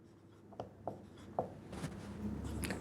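Pen or marker tapping and scratching as a physics equation for projectile motion is written out, a few distinct sharp strokes followed by a short run of steady writing, close and quiet.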